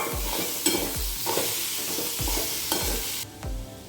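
Mashed potato samosa filling being stirred in a frying pan, a spoon scraping and thumping the pan in a steady rhythm of about seven strokes, with a light sizzle underneath, close and clear with no voices.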